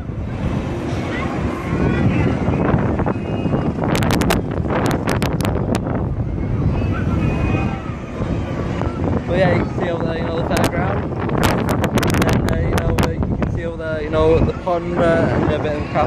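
Wind gusts buffet the microphone in heavy rumbling bursts while a person talks over the blustery noise outdoors.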